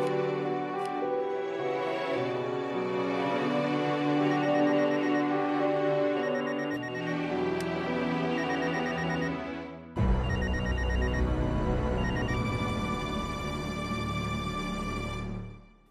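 A telephone rings continuously in a Tamil television drama scene, its repeated bell trills loud and steady over a dense musical background, with no talk.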